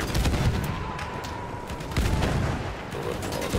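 Battlefield 1 gunfire rattles in dense, loud bursts over a rumbling battlefield din, with repeated sharp reports throughout.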